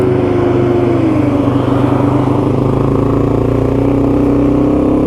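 A Yamaha TW200 dual sport motorcycle with a modified carburetor runs steadily in fourth gear on a 55-tooth rear sprocket, its engine a loud, constant drone with wind rumble throughout.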